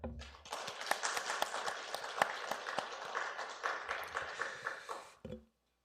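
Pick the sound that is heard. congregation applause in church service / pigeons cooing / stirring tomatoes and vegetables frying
congregation applause in church service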